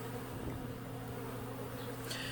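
Honeybees from a package installed in a new hive buzz in a steady, close, continuous drone with no voices.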